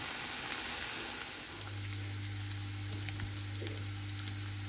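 Beef pieces frying in oil in a pan, cooking for Goan beef balchão pickle, a steady close sizzle and hiss throughout with a low continuous hum in the background.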